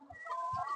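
Chickens cluck softly on a poultry farm in Githunguri, Kenya, a short near burst of fowl calls with a low, steady tone.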